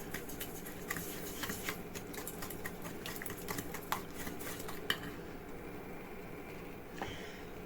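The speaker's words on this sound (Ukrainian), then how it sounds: "І добре перемішуємо." A utensil stirring sweet bun dough mixture with vanilla sugar in a bowl, a fast series of light clicks and scrapes against the bowl that eases off near the end.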